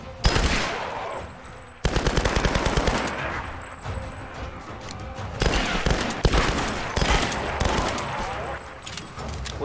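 Gunfire from the video game Tomb Raider: dense rapid bursts of automatic fire mixed with loud single shots, continuous and close, with a voice talking over the action.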